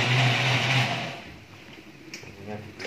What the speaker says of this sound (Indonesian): Bumbunya di blender, baru di blender bumbunya ini lur.